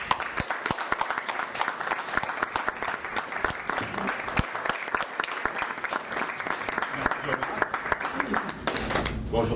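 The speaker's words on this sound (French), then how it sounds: "Je vous demande, s'il vous plaît, de l'accueillir avec une grande main d'applaudissements." A crowd gives a sustained, loud round of applause to welcome a speaker at a French-language motivational event on investing, steady dense clapping throughout with a few voices mixed in.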